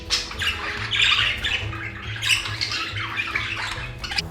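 A budgie squawks loudly and repeatedly up close, harsh bursts of chatter and screeches running continuously without any talking.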